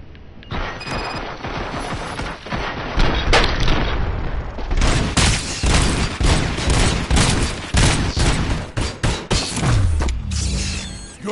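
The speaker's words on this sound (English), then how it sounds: "Fire at will." A ragged volley of gunfire in the film Robocop erupts after an order to fire, with dense overlapping shots and bursts building over several seconds, loud and close, with mechanical clatter and a falling whine near the end.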